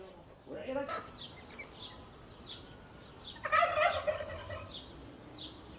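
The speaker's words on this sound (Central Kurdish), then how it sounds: "مریشک و قاز و قەل بەخێو دەکات" Backyard turkeys let out a couple of loud, warbling gobbles among chickens and geese, the second burst longer and closer, with other bird chirps scattered through the background.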